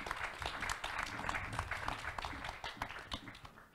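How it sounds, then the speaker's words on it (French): Applause at an OECD roundtable on financing water in Africa, thanking technicians and interpreters: a fairly faint, uneven ripple of clapping from a modest audience, thinning out toward the end. "Je vous demande d'applaudir tout ce monde-là qui était..."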